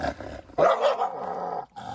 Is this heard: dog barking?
yes